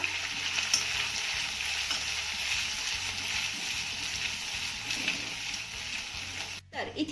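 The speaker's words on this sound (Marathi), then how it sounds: "आता हे सर्व साहित्य आपण अर्धा मिनिटं चांगलं परतून घेऊया" Grated ginger and finely chopped green chillies sauté in a hot pan with a steady, bright sizzle that holds for several seconds and briefly drops out near the end.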